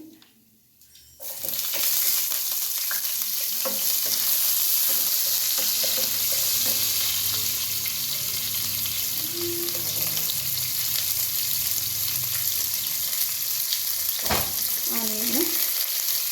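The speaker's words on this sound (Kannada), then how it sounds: "ನೋಡಿ ಸಾಸು ಮತ್ತು ಕಡಲೆಬೇಳೆ ಫ್ರೈ ಆಯಿತು ಈಗ ಆನಿಯನ್ ಹಾಕ್ತೀನಿ" Chopped onion drops into hot oil with mustard seeds and chana dal, giving a loud, steady sizzle and crackle that runs throughout, with faint stirring and scraping near the pan and no talking.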